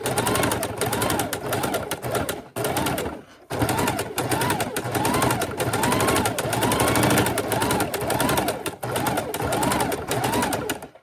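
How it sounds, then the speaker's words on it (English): A sewing machine runs a decorative sealing stitch around the edge of a small keychain wallet, a loud rapid mechanical rattle lasting several seconds with a brief pause partway through. "just sew a nice sealing decorative edge around your entire wallet."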